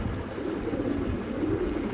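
Gorra pigeons coo in a low, muffled, continuous burble, close by and moderately loud, with soft rustling and no voices.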